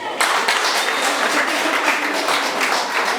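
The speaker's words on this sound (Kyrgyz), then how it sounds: "бир кол чаап коюңуздар" Audience applauding at a celebration, a circumcision toy feast; steady dense clapping starts abruptly and carries on loud and continuous throughout, with faint voices mixed into the crowd noise.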